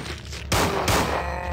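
Two heavy, booming revolver shots in Resident Evil 2 on Claire's B scenario, fired a fraction of a second apart with long ringing tails, loud and close with no talk.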